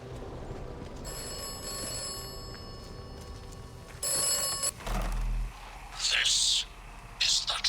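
Telephone ringing in the video game Atomfall, a bright electronic ring repeating in short bursts among game sounds, with a player talking in between.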